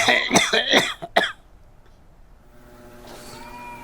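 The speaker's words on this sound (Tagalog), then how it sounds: "Sabi pa nun niya, makusugo na daw po ang ubo ko." A person coughs hard several times in a row, loud and close, followed by a quiet stretch with faint background noise.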